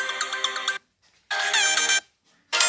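Loud ringtone melody blaring from the single speaker of a Huawei Nova 7 phone, playing in three strong bursts separated by short silences, close and bright.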